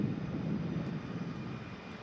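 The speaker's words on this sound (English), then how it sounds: "It's an Airbus A320." An EasyJet Airbus A320 on final approach to Manchester Airport, a steady distant jet engine roar at moderate level with no voices.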